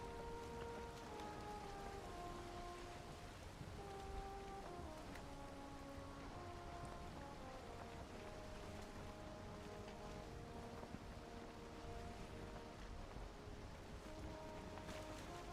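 Viking longship under sail in a video game: a steady wash of water and wind runs throughout the whole stretch, with tonal game music layered on top and no talking.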